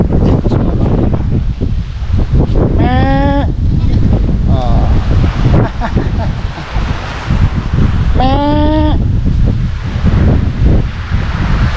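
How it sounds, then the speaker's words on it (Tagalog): Strong wind roars steadily into the microphone, buffeting and rumbling throughout, with a couple of brief animal calls cutting through. "lumakas yung hangin"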